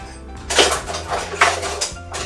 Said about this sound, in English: we're gonna get a medium sized pot here,